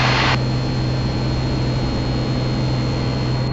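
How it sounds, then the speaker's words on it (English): Piper Comanche 250 engine drones steadily as the plane climbs out after takeoff with the landing gear retracting, a loud, constant cabin roar with a strong low hum throughout. "Landing gear is going up."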